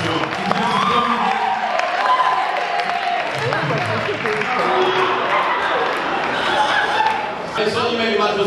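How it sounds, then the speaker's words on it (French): An award ceremony audience at an African trophy event cheers and applauds in a steady, sustained wash of crowd noise, with a voice talking over it throughout. "Est-ce qu'on peut les encourager avec vos acclamations?"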